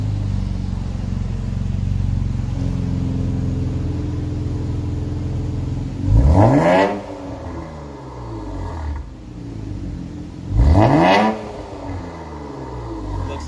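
An Infiniti Q60 with a modified exhaust holds a steady idle broken by two sharp revs a few seconds apart, each rising and falling quickly, loud and close.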